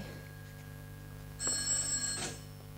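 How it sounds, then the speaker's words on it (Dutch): Telephone bell ringing in a 1966 Dutch radio play, a single bright ring lasting under a second over a low steady hum, fairly faint and alone. "Telefoon."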